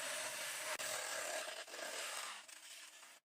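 Small handheld power cutter slicing through a plastic mineral water bottle, a steady loud high-pitched grinding whine running almost continuously, with a brief dip midway and a short tail at the end.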